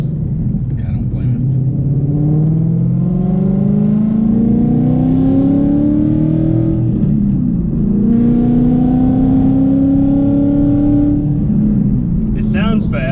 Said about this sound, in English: It sounds fast, but it's a Mustang, guys.